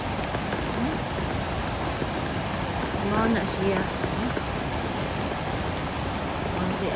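Steady rushing water roars continuously like a waterfall, with a voice speaking faintly underneath.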